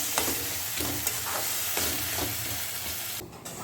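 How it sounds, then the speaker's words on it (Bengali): A spice paste with turmeric is sautéed thoroughly in a pan for a jackfruit curry. A steady, dense sizzle runs throughout, broken by a few soft scrapes of stirring, close up and with no voices. "এবারে ভালো করে কষিয়ে নিচ্ছি"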